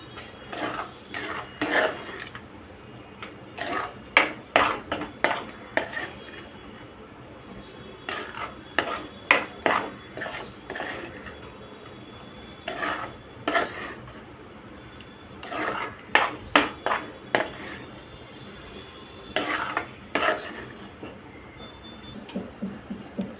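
A spoon scrapes and clinks against a pan while semolina sheera is stirred until the sugar dissolves, coming in irregular clusters of close metallic knocks and scrapes with quieter pauses between.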